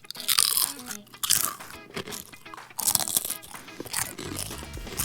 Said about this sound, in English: Could you possibly chew any louder?